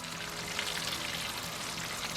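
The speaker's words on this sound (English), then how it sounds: "You can hear it sizzling" Steady, dense sizzling of an aged Wagyu ribeye steak frying while basted in butter with garlic, thyme and rosemary, a continuous crackle with no voices, fairly close and even in loudness throughout.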